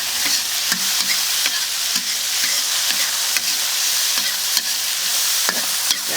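Soaked dried chilies stir-fried in a hot wok with bean paste give a steady, loud sizzle, broken by periodic scrapes and clanks of the spatula against the metal, with no talking.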